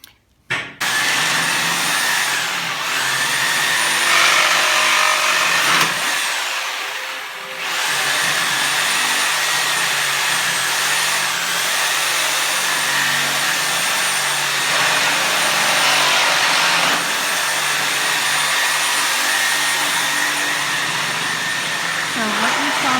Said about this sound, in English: using the Sawzall in order to break apart pallets